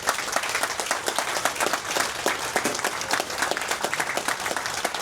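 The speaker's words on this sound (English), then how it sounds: "Give all these people a round of applause here heading to DC." Applause for veterans boarding an Alaska Airlines Honor Flight to Washington, DC, a dense, steady burst of clapping from a crowd that keeps up evenly from start to finish.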